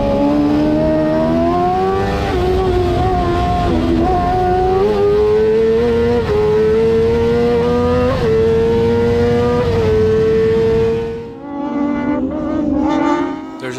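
Rallycross buggies race on a slippery, wet track, with a steady loud engine drone that rises and falls through gear changes and handbrake turns, then a brief dip before revving again.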